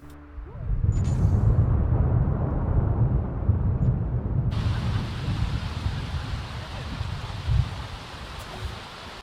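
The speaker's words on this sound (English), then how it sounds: "on the way there, Charley is actually struck by lightning" A Sims 4 lightning strike hitting a Sim, heard as a loud sustained rumbling crackle with a sharp bright burst midway and a thumping jolt near the end, alone without talk.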